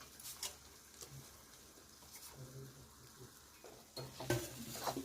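Potatoes being stirred into roasted masala in a frying pan, soft scraping and clatter of a spoon against the pan over a faint sizzle, quiet and close, with a voice talking at times.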